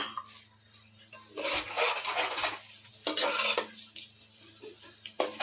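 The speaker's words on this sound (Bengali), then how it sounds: "আর 2 মিনিট পেঁয়াজটাকে একটু ভেজে নেব।" Onions for biryani frying in a pan, stirred in bursts of gritty scraping and utensil rasps against the metal, close and fairly loud with quieter pauses between.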